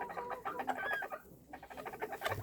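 Bantam roosters calling to their hens in a farmyard, a series of rapid, soft clucking calls repeating in quick bursts, fairly close and quiet, with no talk over them.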